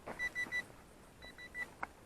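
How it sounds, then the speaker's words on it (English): A series of short, high electronic beeps from an RC glider transmitter, first three evenly spaced, then a few more after a brief gap, faint against quiet background noise. "That was my transmitter beeping."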